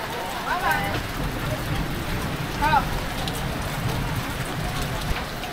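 Rain pours steadily over an outdoor market in Togo during the rainy season, a dense continuous hiss with a couple of faint voices briefly rising above it.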